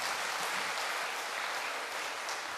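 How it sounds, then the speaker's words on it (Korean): A church congregation claps together in a dense, steady round of applause that holds evenly from start to finish with no voices over it. "우리에게 좋은 저기를 주셔서 박수 한번 하십시오"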